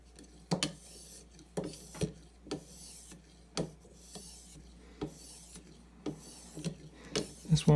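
A knife blade is drawn in steady, evenly spaced rasping strokes across sharpening stones, each short scrape sounding close and distinct against a quiet background.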